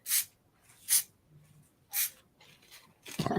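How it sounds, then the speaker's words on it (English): Aerosol spray paint can firing short, sharp hissing bursts, three distinct sprays spaced about a second apart, followed by a fainter rustle and a louder, broader burst at the end, close and clear with no talking. "I'm using my spray paints, Colleen."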